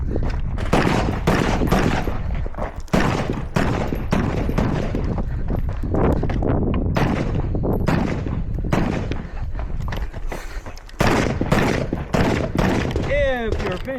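Rifle shots at an outdoor practical rifle match at a gun club, many loud sharp reports fired in irregular succession, close by, with a few voices speaking between shots.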